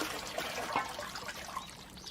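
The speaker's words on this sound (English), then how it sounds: "People rinse out pots in the tanks and clean their freshly picked vegetables." Water trickles and dribbles softly into a stone village water tank in rural Japan, a faint, continuous flow with small splashy accents.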